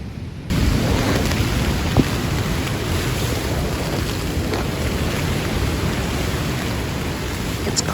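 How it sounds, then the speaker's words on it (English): Strong wind roars steadily at a wild coastal campsite beside the ocean, a loud constant rushing blast with microphone buffeting and surf-like noise, sustained throughout with no talk. "The wind just keeps getting stronger and stronger."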